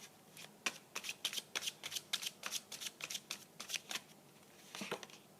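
Tarot cards are shuffled by hand in quick repeated riffles, a steady run of crisp flapping clicks close to the listener, pausing briefly before a final burst.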